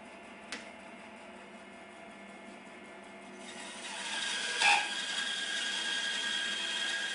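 A bandsaw cuts through 5-inch-thick timber, faint at first, then a fuller, steady rasping hiss as the blade bites into the wood, with a brief louder scrape partway through.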